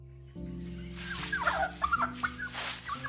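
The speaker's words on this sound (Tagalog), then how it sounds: "Nakakatuwa naman po mga pabo nyo." Several turkeys gobble and cluck in bursts over a low steady hum, close by, with overlapping warbling calls rising and falling.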